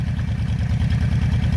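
A Honda Shadow 750 motorcycle engine idles close by after warming up, with a loud, low, even pulsing throb that repeats steadily.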